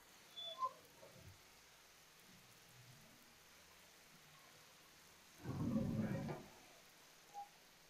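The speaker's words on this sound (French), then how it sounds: "Il pleut en même temps, ça te donne une douche." Rain falls in the survival game Sheltered 2 as a soft, steady hiss, with a louder rumbling swell near the end that suggests thunder, then a short faint tail.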